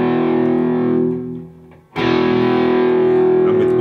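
A single downstroke power chord on electric guitar through heavy amp distortion rings out loud and sustained, fades briefly, then a second strum hits and rings on at full level.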